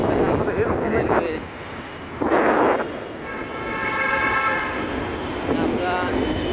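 A Bangladesh Railway train rumbles past nearby with a loud, sustained horn blast partway through, while someone talks over the steady rolling noise.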